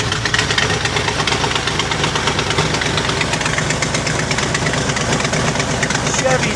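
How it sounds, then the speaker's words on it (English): A Chevy small block 400 V8 in a motorhome runs at a steady idle, a continuous close rumble with a slight knocking texture throughout. "Chevy small block 400."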